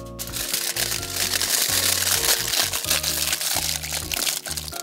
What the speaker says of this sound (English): Now we grab the other piece of tin foil and place it on the top.